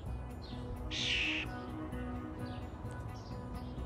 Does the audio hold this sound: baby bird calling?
yes